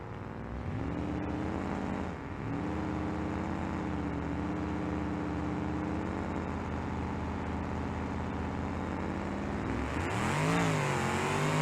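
A boosted car engine in the video game BeamNG.drive, running 17 pounds of boost, drones steadily at high revs, dips briefly, then surges louder in a final rev as it launches.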